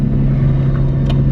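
A Nissan Skyline accelerates with early gear shifts, its engine a loud, close, steady drone with a brief break near the end.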